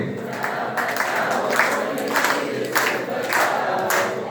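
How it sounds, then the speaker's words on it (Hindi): Audience in a Hindi-language maths teacher-training session clapping together on cue, a steady, fairly close burst of many hands with slight rhythmic surges, lasting several seconds with no talk over it. "ताली बजाइए।"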